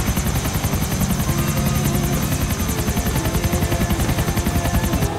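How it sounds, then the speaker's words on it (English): A police-style helicopter in the video game GTA IV flies steadily, its rotor beating in a fast, continuous thrum with a high whine on top, loud and close throughout. "The Stag, of course, is trying out his new helicopter."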